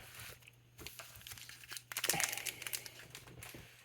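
Pokémon card booster packs from a Charizard Ultra-Premium Collection being opened, with crisp crinkling and tearing of foil wrappers that swells in the middle and tapers off; no talking.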